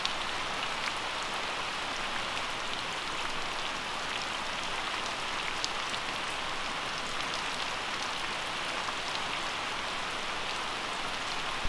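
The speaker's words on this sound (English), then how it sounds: "Today's been a beautiful sunny day and now it's raining." Steady rain falls at an island resort in the Yasawa Islands of Fiji, a dense, even patter of drops on surfaces that holds constant throughout, close and enveloping, with no voices.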